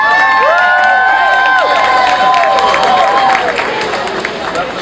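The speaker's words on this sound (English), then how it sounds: "we're going to give two Harlem Boys and Girls Club a big round of applause right now" A crowd at an evening community event in Harlem claps and cheers loudly, with whoops and shouts rising over dense, continuous applause that fades slightly toward the end.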